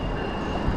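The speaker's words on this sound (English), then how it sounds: "Oh, we got a train coming." A train rumbles past at close range in Philadelphia, with steady loud rolling noise and a thin wheel squeal running through the whole moment, with no voices.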